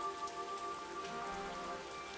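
Steady rain falls in the video game Rain Code, a constant patter of drops under soft sustained background music tones, with no voices.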